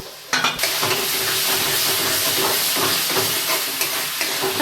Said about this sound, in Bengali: মশলাটাকে কষিয়ে নেবো যতক্ষণ পর্যন্ত তেল না ছাড়ে।